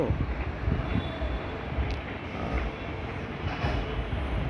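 Steady wind buffeting and rumbling close to the microphone, a continuous low roar with no speech.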